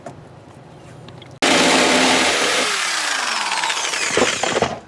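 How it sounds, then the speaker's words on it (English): A loud power drill suddenly starts up and whines steadily nearby, its pitch shifting as it bites into material while drilling holes to bolt down a race car's battery box, running continuously to the end. "Drilling the holes to bolt down the battery box."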